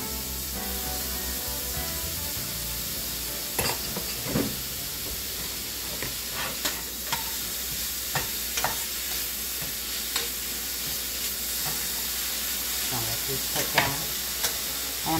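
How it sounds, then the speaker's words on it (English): Mushrooms and onions frying in butter for a green bean casserole, a continuous close sizzle and hiss punctuated by sharp spoon scrapes and stirring clicks, with no talk. "And I'm going to add some everything mushrooms."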